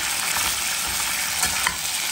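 Meat for plov with barberries frying in a pot while being stirred, a loud close sizzle with scraping stir strokes, brief and without speech.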